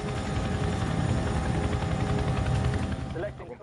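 A helicopter flies close by with a loud, steady rotor thrum and engine whine, a continuous pulsing drone that cuts off abruptly near the end.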